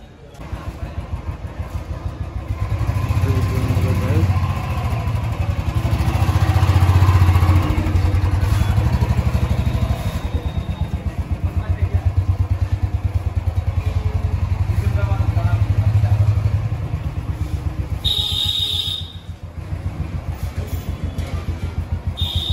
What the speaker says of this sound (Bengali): চলছে বাইক বের করার প্রস্তুতি।